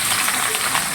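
Grated ginger and garlic hitting hot oil, a loud, steady hiss of frying sizzle with no talking.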